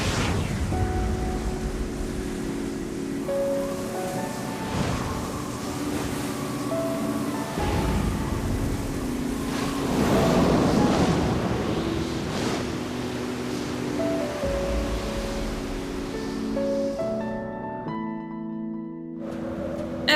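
Gusting wind in the video game Final Fantasy XIV: Stormblood, a steady broad rush that swells around the middle, layered over sustained musical tones and fading out near the end.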